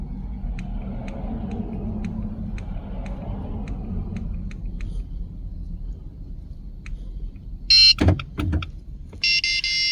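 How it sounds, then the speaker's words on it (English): Electronic beeps from a key fob programming tool plugged into a 2011-2017 Dodge Charger, two short bursts of bright high-pitched tones near the end, clear over a low idle rumble and faint ticking. "Within a few seconds you will hear the tool beep."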